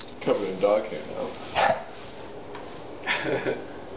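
Bananas the dog gives a few short, nearby barks and yips in a home at Christmas, with a pause before a final pair of barks, and a person talking in between.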